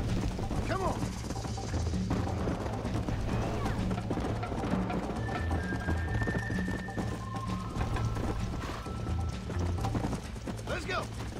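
Rhythmic clip-clop of a horse at full gallop in a Red Dead Redemption horse race, steady and close, with game music and faint tack and mechanical rattles running underneath.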